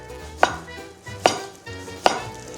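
Three sharp knife chops through boiled pork fat on a cutting board, evenly spaced about a second apart, close and distinct with quiet between them.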